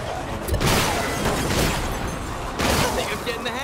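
Bursts of gunfire from the Sunset Overdrive video game rattle loudly in two dense volleys with a short lull between, while a voice talks along.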